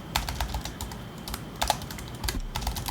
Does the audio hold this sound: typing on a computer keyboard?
yes